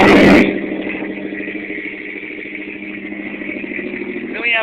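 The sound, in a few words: Toyota truck aftermarket exhaust idling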